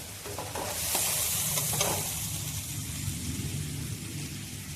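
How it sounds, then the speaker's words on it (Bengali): Spice paste sizzles and fries steadily in a pan while it is stirred, a constant crackling hiss with a few brief scraping touches near the start, close and moderately loud, with no voices. "মশলাটা একটু কষিয়ে নেব"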